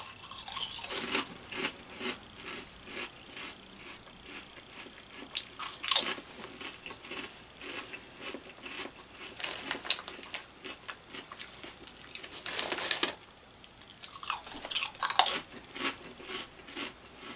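Someone eats Ruffles Flamin' Hot Queso potato chips in loud, close crunching bursts, with crisp bites followed by stretches of softer chewing and a few clicks.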